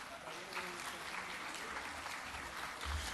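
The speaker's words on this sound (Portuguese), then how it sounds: "Desde já também o nosso cumprimento através de uma salva de palmas com o nosso agradecimento." Faint applause from a lecture audience honouring a public prosecutor, a soft steady patter of clapping heard from a distance and continuing evenly for a few seconds.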